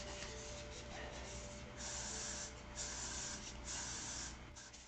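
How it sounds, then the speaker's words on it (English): Freezing spray misted onto the lace of a lace front wig, several short hissing bursts in close succession, close and fairly quiet. "you can freeze the gel in place with the freezing spray"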